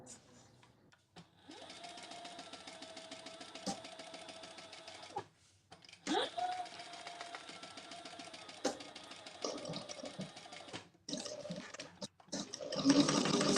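A sewing machine runs in long stretches while top stitching fabric, with a steady mechanical whir and needle rhythm that stops and restarts several times. It sits close at moderate loudness, and brief noises fall between the runs.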